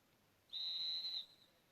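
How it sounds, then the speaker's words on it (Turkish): A single shrill, steady blast from an emergency whistle in an earthquake kit lasts under a second, piercing and close, with quiet background before and after. "bakın normal üflediğimde düdük"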